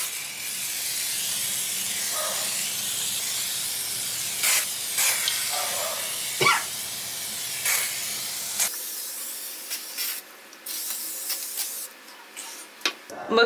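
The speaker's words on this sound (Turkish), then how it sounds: "Domol'un tabii ki şu fırın ve ızgara temizliği için olan spreyini kullanıyorum." Domol oven and grill cleaner sprayed onto a dirty glass-ceramic stovetop: several short hissing spray bursts, close and sharp, separated by quieter rubbing and handling sounds.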